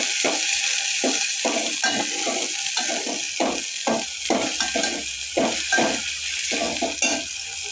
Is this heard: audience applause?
no